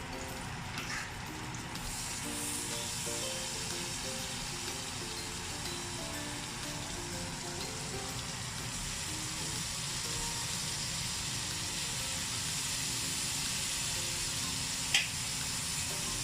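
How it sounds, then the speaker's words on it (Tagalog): Meat browning in butter in a pan while Japanese curry is being cooked, a steady close sizzle with a faint hum underneath, running unbroken with only a brief click near the end. "Ano na yung butter, papupulahin lang natin yung karne."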